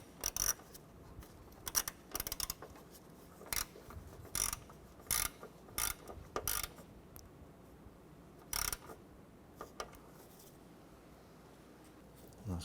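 A ratchet snugs down a 7mm screw on the wiper motor of a 1994-2004 Chevrolet S10, quiet bursts of rapid clicking pawl strokes in irregular spurts, close by, with no talk.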